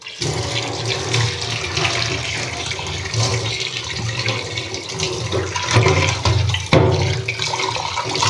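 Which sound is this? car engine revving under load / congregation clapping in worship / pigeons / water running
water running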